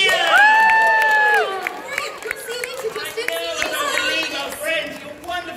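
A crowd of children cheers at a Butlins holiday park show in 2019, opening with a long, loud shared 'woo' that breaks into scattered shouts and claps.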